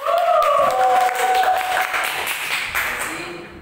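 Audience applause at a pro-contra school debate on "Merdeka Belajar", a broad steady clatter of clapping from the start that slowly thins out, with a voice speaking over it early on.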